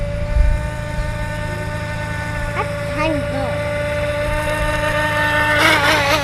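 Out on a small lake, a JJRC S1 Pentium RC speedboat's electric motor makes a steady high whine that swells toward the end, while a person talks over it.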